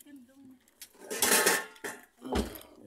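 Metal pots clank and scrape together in a few loud bursts, with quieter rustling and faint talk between them.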